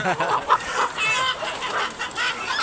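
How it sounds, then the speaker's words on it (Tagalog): Roosters on a farm clucking in a close, continuous series of short throaty calls, fairly loud and steady over a quiet outdoor background. "Yan, mga barako yan."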